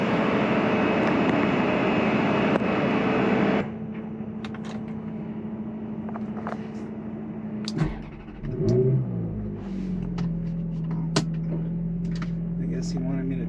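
Ferrari F430 engine running and revving as the car is driven down off a truck, a loud steady drone that drops in pitch then settles into a lower hum with shifting engine tones.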